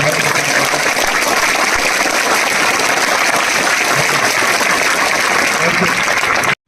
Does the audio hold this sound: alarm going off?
no